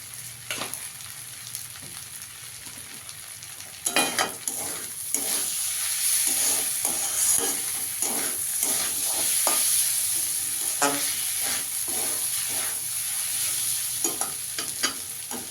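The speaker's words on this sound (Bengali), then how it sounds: "চালটা আমি একটু ভেজে নিয়েছি।" Rice seasoned with black pepper frying in a pan, a steady close sizzle with repeated scraping stir strokes that get louder partway through and keep a busy, even rhythm.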